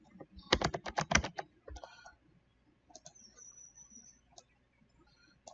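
Quick clicks from a computer keyboard: a brisk burst of five or six close keystrokes, then a few scattered taps and mouse-like clicks at a lower level, with a faint high bird chirp behind.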